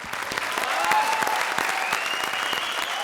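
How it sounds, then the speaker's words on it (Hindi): An audience at a comedy show gives loud, sustained applause, dense clapping filling the room at an even level with a few whoops rising over it. "जोरदार ताली।"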